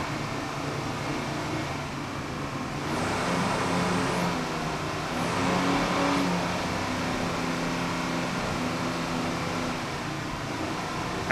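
A 38-foot Fountain race boat with twin Mercury 500-horsepower inboards runs on throttle during a championship powerboat race, giving a steady, distant-sounding engine roar and wind wash that swells twice in brief surges.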